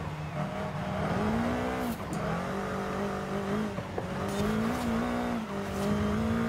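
A tiny bubble car in Forza Horizon 5 drives with a steady, droning engine note that rises and falls as it revs, with brief tire squeals breaking through, loud and continuous throughout.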